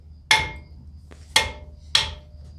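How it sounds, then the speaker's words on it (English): A hammer taps on the brake rotor of a Ford F150 FX4 three times at an even pace, each strike a sharp, bright metallic clank that rings briefly, close up and loud over a quiet background. "Where'd you tap it with? The hammer."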